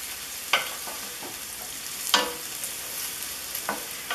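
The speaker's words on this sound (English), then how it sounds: "I'm going to add some sliced garlic into the pan" Sliced garlic frying in a pan while making lo mein, a quiet steady sizzle with a few brief scraping stirs rising above it.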